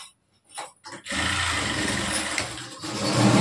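A sewing machine stitching a blouse starts after a few faint clicks and runs steadily with a close, continuous whirring hum for the rest of the moment.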